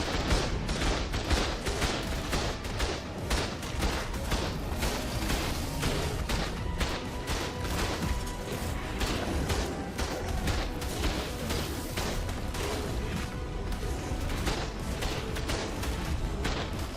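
Dense, continuous barrage of automated turret gunfire in the ARK survival game, aimed at a Revenant Rex, with rapid overlapping shots and booms sustained loudly throughout without talk.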